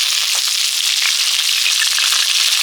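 Large Japanese puti fish frying in hot oil, a loud, steady crackling sizzle that holds without a break from start to finish, close up and with no voices.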